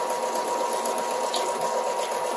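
A sewing machine runs steadily as it stitches apron fabric at a half-inch seam, giving a loud, even mechanical whir close by with no pause or speech.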